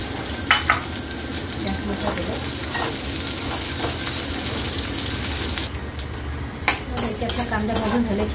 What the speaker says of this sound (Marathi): तर आता मी हे फ्राय करून घेते.